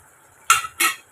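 A spoon stirs roasted spice powder into a chickpea and potato gravy in a pan, making two short scraping strokes close by with a brief pause between them. No one speaks.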